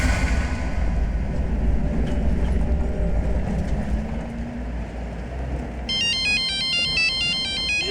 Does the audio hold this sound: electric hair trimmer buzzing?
no